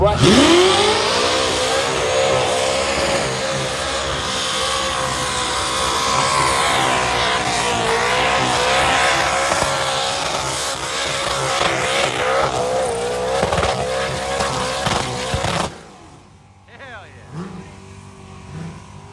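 A car doing a burnout, its engine revving hard and continuously as the tires squeal loudly for about fifteen seconds, then the roar abruptly cuts to a quieter idle with faint background sounds.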